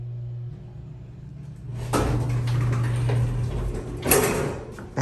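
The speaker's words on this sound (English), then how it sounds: "That door is loud." Door of an older Otis Series 1 hydraulic elevator sliding shut, a low mechanical hum giving way to a loud rumbling slide and a sharp clunk as it closes, close by.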